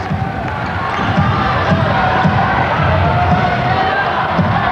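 A basketball arena crowd roars steadily behind the Gold Coast Rollers against the Perth Wildcats, a loud continuous cheer with balls bouncing on the court beneath and a commentator talking over it.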